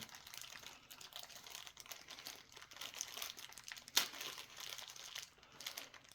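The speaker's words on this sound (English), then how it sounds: "I am gonna open the accessory pack. I'm gonna open it. It's a stapled shut plastic bag." A stapled-shut plastic accessory bag for a SOG Tiger Shark knife being opened, with steady crinkling and rustling of plastic throughout and a sharp crackle near the middle, close up and fairly quiet, with no talking.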